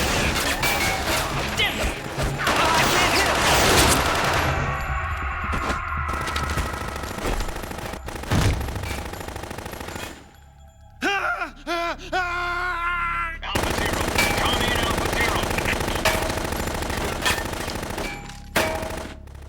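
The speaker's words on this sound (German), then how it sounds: "Einfach schießen, so, aber nach oben im Kreis drehen, so." Video game gunfire comes in dense automatic bursts and heavy blasts, loud and close, with crashes and a brief quieter gap midway, under occasional voice.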